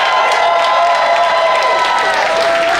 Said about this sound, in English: can I get a round of applause for our MCs?